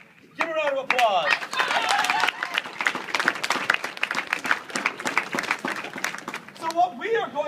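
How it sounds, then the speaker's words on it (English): Applause and clapping from an audience at a comedy panel, a dense burst of claps running several seconds and fading, with talking over it at the start and end. "Give a round of applause."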